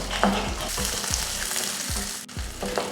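About twenty garlic cloves, small shallots and four dried red chillies sauté in oil in a pan, sizzling close and loud with repeated rhythmic spatula scrapes and taps, no talking.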